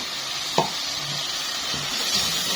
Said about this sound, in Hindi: इसी दौरान इसमें हम चिकन ऐड कर लेंगे।